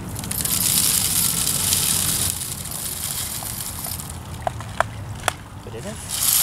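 Birdseed pours into a backyard bird feeder as a small child helps fill it, a continuous granular rustling hiss for several seconds, then a few sharp clicks and taps near the end with faint voices nearby.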